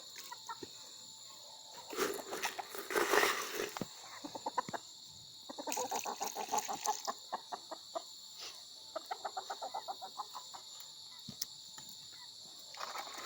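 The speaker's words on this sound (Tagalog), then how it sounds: "samahan niyo ako at magpapatuka tayo ng manok" Hens cluck in bursts while being fed, with scattered pecking and movement noises alongside a steady high-pitched hum, loudest early on.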